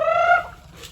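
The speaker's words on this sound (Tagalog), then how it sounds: "Papakain tayo ng manok." A single short, bright call from backyard chickens at feeding time rings out close by and fades quickly into quiet.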